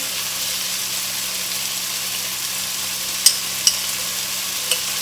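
Ginger garlic paste and tomatoes frying in a pan, a continuous even sizzle close by, with a few soft spoon clicks toward the end and no talking.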